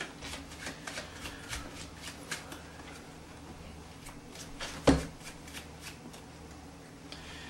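Cards riffled and shuffled repeatedly at close range, a steady papery flutter with a sharper snap near the end.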